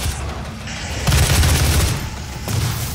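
Grenade explosions in the shooter game Doom, heard as a rumbling cluster of booms and crackling blasts, the loudest burst about a third of the way in and another near the end, with no voices.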